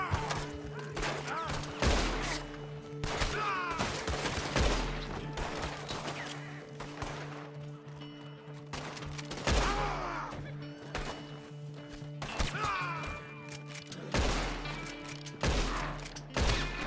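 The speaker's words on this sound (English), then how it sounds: "Shoot the bastard." Red Dead Redemption 2 gunfight at a Strawberry corral: repeated sharp gunshots ring out in irregular bursts, some echoing, with voices talking between the shots.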